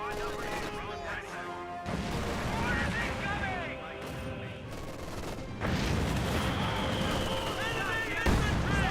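Artillery shells and gunfire strike German grenadiers and conscripts in a Company of Heroes 2 battle, with repeated heavy booming blasts and crashing impacts over rumbling combat noise, while a voice talks over the action.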